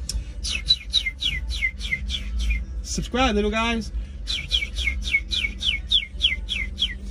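Small birds chirp in a repeated rapid series of bright tweets from a city neighborhood street in Northeast Philadelphia, steady before and after a brief spoken interruption, over low traffic rumble.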